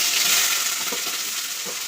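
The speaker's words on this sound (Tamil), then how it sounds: "நெக்ஸ்ட்டு வெங்காயம் போட்டுக்கிறேன்" Onion frying in hot oil with mustard seeds in a kadai, heard as a dense, close, steady sizzle with faint stirring clicks.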